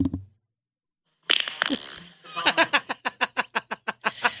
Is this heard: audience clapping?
no